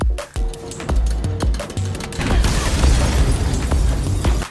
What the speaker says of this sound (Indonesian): tiba-tiba saluran gas di apartemen itu mulai bocor dan mulai meledak.